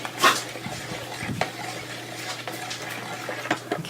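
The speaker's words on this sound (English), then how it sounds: "Stir it with the blender." A stick blender mixes milky soap batter, a low steady motor hum running under light scraping and knocking against the container, with no talk.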